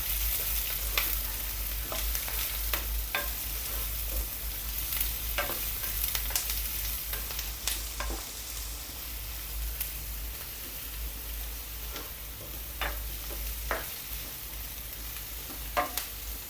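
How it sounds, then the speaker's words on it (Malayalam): Minced ginger and chopped green chillies sauté in a hot pan, with a continuous close sizzle broken by occasional scrapes and clicks of stirring. "ഇതെല്ലാം കൂടി നല്ലപോലെ ഒന്ന് വഴറ്റിയെടുക്കാം."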